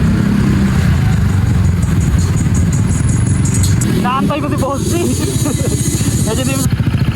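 A motorcycle rides through the night with a loud, steady engine drone and rattling clatter throughout, while someone talks over the noise.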